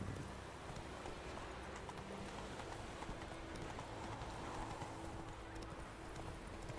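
Horse galloping in The Witcher 3 video game, a steady rapid clip-clop of hooves running continuously over a low background hum.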